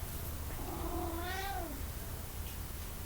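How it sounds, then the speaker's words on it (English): A single drawn-out meow from a climbing cat, fairly faint over a steady low room hum, rising and falling over about a second, with no talk. "And now, if you can hear that, that is a cat named Normandy, who is currently climbing."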